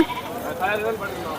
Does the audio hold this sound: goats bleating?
yes